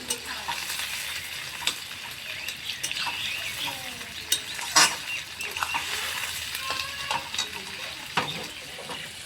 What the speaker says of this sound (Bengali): টমেটো, পেঁয়াজ, ক্যাপসিকাম কিছুক্ষণ ভেজে নেব।